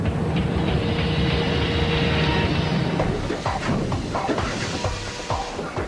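A roller coaster train launches during water-dummy testing, roaring along its track with a rushing mechanical rumble, then rattling clacks as it speeds away, no voices present.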